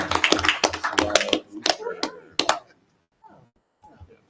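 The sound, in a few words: audience applause at board meeting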